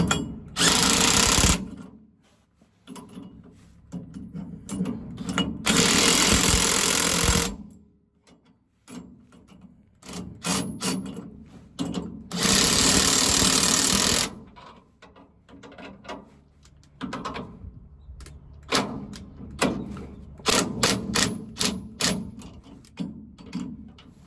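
Lock nuts on the U-bolts of a 1994 Chevrolet Silverado rear axle being run down with a power tool, loud close bursts of a few seconds each separated by short pauses and lighter ratcheting and clanks.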